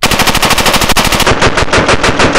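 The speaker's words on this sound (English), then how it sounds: "We're gonna shoot it to see if any of our bullets can go through." An M16 rifle chambered in 5.56 fires full auto at a vending machine, a loud, close, continuous burst of rapid, evenly spaced gunshots lasting the whole stretch with no talking.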